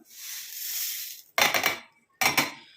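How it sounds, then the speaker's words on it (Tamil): A soft pouring rustle of dry ingredients into a mixer jar, then two sharp clinks of something knocked against the jar, close by. "இதை வந்து நம்ம மிக்ஸி ஜாரில் வந்து எல்லாத்தையும் ஆட் பண்ணிக்கலாம்."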